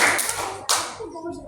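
Children at a Ramadan Islamic school program clap together on cue, two sharp unified bursts about half a second apart, close and loud, then fading into quiet room sound.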